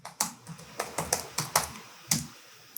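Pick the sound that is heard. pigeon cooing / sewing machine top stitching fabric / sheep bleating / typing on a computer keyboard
typing on a computer keyboard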